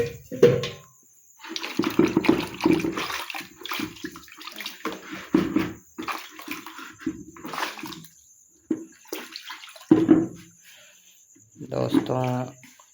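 Water poured by hand into a mix of barley and dairy feed prepared for buffalo, heard as intermittent splashing and pouring bursts with a person talking over and between them.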